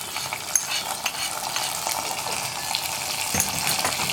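A spoon stirs basmati rice payasam after fried cashews and raisins are added, making a soft, continuous wet churning with light sizzle-like crackle and occasional louder scrapes.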